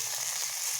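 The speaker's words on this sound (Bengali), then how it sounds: "ভালো করে ভেজে নেব" Curry leaves fry in hot oil for poha, a brief, steady sizzling hiss heard up close with no voices.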